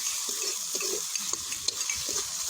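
Vegetables frying in oil at an outdoor cooking gathering, a steady hiss of sizzling with soft stirring scrapes and faint utensil clinks close by.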